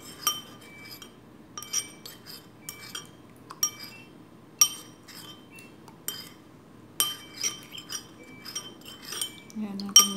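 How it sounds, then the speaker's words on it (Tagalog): A utensil clinks against a glass bowl again and again while banana caramel pudding ingredients are mixed, with sharp taps recurring every second or so over a quiet background. "So, i-mix natin siya dyan."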